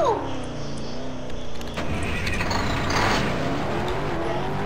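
A truck in the Roblox video game drives along with a steady, loud engine drone, its pitch climbing briefly at the start, then holding as a continuous close rumble for several seconds.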